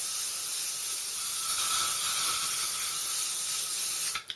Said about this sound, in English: What I'm now going to do is spray my hair with hairspray all over.